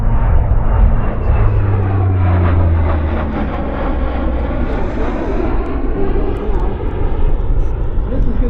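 An RCAF C-130 Hercules turboprop sweeps past at high speed during an air show media day at CFB Comox, a loud, continuous engine roar with a shifting pitch as it passes, steady for the whole stretch.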